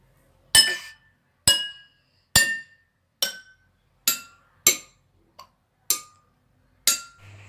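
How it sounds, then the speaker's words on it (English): Glasses filled with different water levels struck one after another, giving nine bright, ringing clinks at roughly even intervals, each decaying quickly, with a varying pitch from strike to strike. "let us observe the difference in the pitch of the sound produced by each of the glass"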